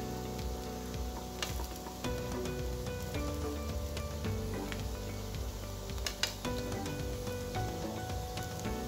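Spread egg sizzling in a hot oiled pan for an egg roll seasoned with chili flakes and green coriander, a steady, close frying crackle with light pops and faint ticks throughout.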